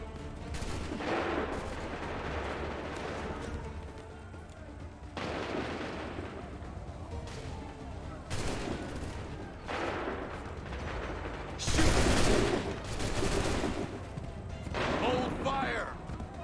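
Musket volleys in the Assassin's Creed III video game, several heavy, booming bursts of gunfire with crashing echoes, spaced a few seconds apart among shouted commands.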